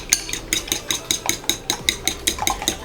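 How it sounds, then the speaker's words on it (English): A jumbo egg is whisked briskly in a bowl, making quick rhythmic clinking taps of the whisk against the sides, about four strokes per second, close and fairly loud with no talking. "I'm gonna just whisk this real quick"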